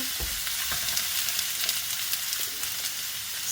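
Steady, close sizzling and crackling of apples frying in butter in a pan, with occasional soft pops and no voices.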